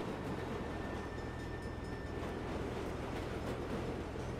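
A train rumbles past in Saints Row (2022), a dense continuous low roar of rolling wagons with a faint squeal of wheels, steady and moderately close.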